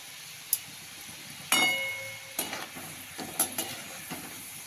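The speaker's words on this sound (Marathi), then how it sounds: "आता लहान गॅस करून आपण मंद आचेवर तळून घेऊया सगळे" Traditional jaggery gadgil sweets deep-fry in hot oil over a low flame with a soft, steady sizzle. Several sharp metallic clinks cut in, one ringing out briefly. No voices are heard.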